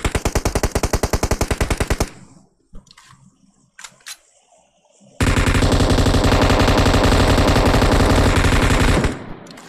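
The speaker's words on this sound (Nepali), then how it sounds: "यसलाई म यसरी M249 को ह्याकर सट देखाउँछु" M249 machine gun fire in PUBG, in two loud bursts: a rapid rhythmic volley for about two seconds, a pause with a few scattered sounds, then a longer sustained stream of fire lasting around four seconds before it cuts off.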